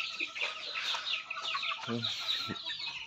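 A loose Rhode Island Red rooster gives short, close clucking calls over a busy farmyard background of other chicken sounds, with a few louder clucks near the end.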